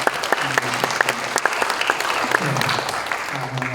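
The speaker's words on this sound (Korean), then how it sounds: "우리 박수 한번 합시다" An audience at a Christian leaders' Liberation Day prayer gathering applauds a choir ensemble, dense sustained clapping from many hands with some sharper individual claps, loud and continuous, and a voice briefly audible underneath.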